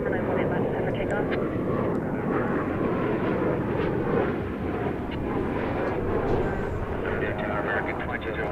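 A jet airliner rolls for takeoff on runway 18 Left at DFW Airport, a loud, steady, broadband engine roar that holds without pause, heard from a spotting position with no clear voices over it.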